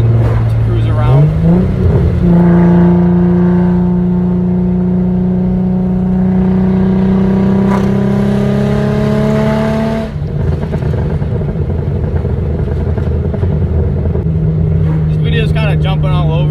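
An Infiniti G35 engine rises in pitch as it accelerates, holds a droning hum, then drops and settles into a steady lower tone near the end, loud and close throughout.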